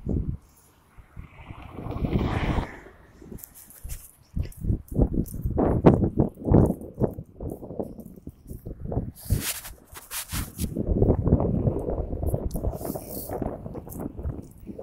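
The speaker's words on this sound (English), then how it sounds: "Probably hearing that wind" Gusty wind buffets the microphone outdoors, with loud rumbling bursts and rushing noise that rise and fall throughout.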